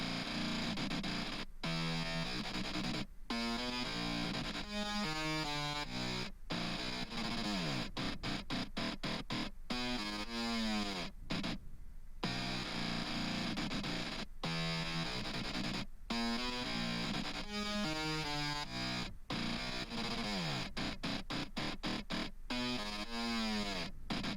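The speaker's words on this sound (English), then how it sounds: "Let me show you what the FX bass sounds like." A heavily distorted synth bass plays a choppy, stuttering pattern with sharp gated cuts and pitch sweeps, loud and continuous with no voices.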